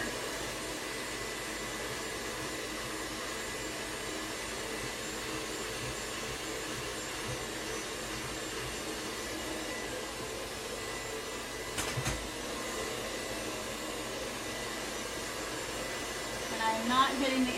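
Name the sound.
hair dryer blow drying hair with a brush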